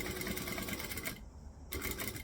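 A sewing machine runs steadily while stitching a bag lining, keeping up a dense buzzing whir that breaks off for about half a second before it resumes at full speed, close up and with no talking over it.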